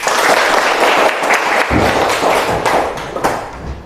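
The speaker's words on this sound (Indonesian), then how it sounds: "Kita tepuk tangan lagi." Students in a classroom break into loud, sustained clapping, with a few hard thumps and desk taps scattered through the burst before it starts to fade.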